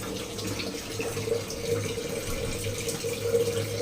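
Hot water pours into a pan of fish curry in a steady, even stream with a constant low rush and faint bubbling, close by and uninterrupted.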